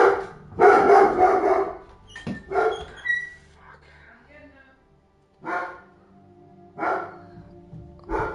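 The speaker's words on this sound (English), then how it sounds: "Someone just rang the doorbell, and my dog has to bark every single time." A dog barks at a ringing doorbell in a home: several loud, close barks in uneven bursts separated by short pauses, with a person's voice faintly mixed in.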